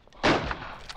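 Gunfire in the World War I shooter Verdun: one loud close rifle blast with a long rolling tail, and fainter shots cracking in the distance behind it.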